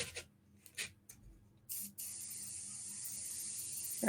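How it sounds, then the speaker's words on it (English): An airbrush hisses out paint in a steady, close spray that holds for about two seconds after a few short bursts. "Airbrush seems to behave."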